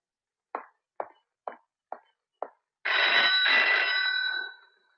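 A telephone rings in a Hindi film scene: a long, bright electronic trill follows a series of five evenly spaced sharp ticks, heard close and alone without any voices.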